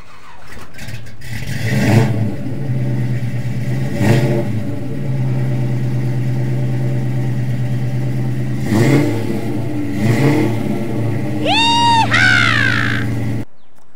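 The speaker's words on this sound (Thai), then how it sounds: "แม่เสียงนี่กระหึ่มนะ V8 นะ" Ford Mustang V8 engine rumbling at idle with repeated throttle blips that swell and fade, loud and close, with a brief bird-like squeal near the end.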